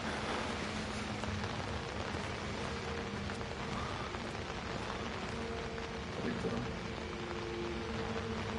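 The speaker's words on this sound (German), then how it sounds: "es regnet" Steady rain falls in the horror game Outlast, a dense, even hiss of drops on surfaces running unbroken throughout at a moderate distance, with no voices over it.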